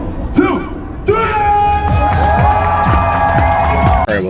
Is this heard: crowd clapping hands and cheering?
yes